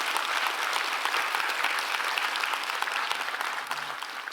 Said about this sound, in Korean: 우리 하나님 앞에 감사와 영광의 박수.